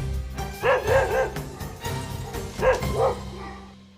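A dog barking several times in short, yappy bursts, fairly close and loud, with slight whimpering tones between barks.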